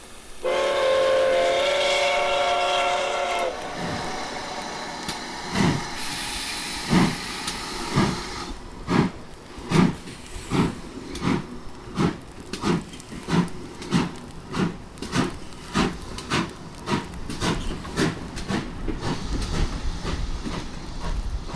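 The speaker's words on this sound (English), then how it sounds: "let out a loud blast from its whistle and sped away" A loud steam whistle blasts for several seconds, then a train pulls away with rhythmic chuffing and clacking that quickens steadily.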